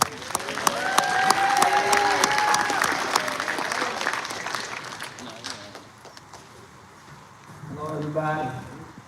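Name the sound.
round of applause at press conference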